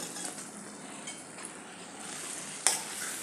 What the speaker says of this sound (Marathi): व्यवस्थित मिक्स करून घ्यायचं